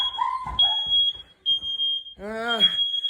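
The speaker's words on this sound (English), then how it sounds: "Alarm cannot be hushed." A smoke alarm shrieks with a steady high-pitched electronic tone that cuts out briefly and resumes, sounding over a person talking and a dog whimpering nearby.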